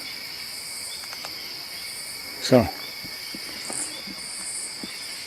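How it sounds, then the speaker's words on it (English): Night insects chirp faintly and steadily outdoors in a quiet hollow under a full moon, a thin continuous high trill with a brief louder sound near the middle and a single short spoken word. "We can hear some of the night bugs, but they're not like close to us."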